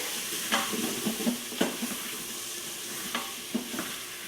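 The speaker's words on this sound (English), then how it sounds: "We're going to just sit there and bloom all the spices into the oil." Whole spices bloom in hot oil with a steady, soft sizzle, broken by a few sharp clicks and scrapes of a spoon stirring the pan at close range.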